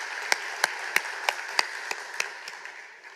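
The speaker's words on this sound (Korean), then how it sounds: "우리 박수로 격려하도록 하겠습니다" A church congregation claps for its choir in sharp, evenly spaced claps, all together at a brisk steady beat, about ten in a row, fading slightly at the end.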